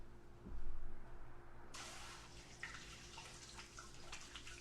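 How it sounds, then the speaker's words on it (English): Tap water runs steadily into a sink during handwashing, starting abruptly partway through as a broad continuous splash with a few brief drips and splatters, close and moderately quiet, with no talking. "let me wash my little grubby hands real quick"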